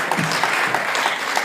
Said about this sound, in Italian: Un forte applauso a Rita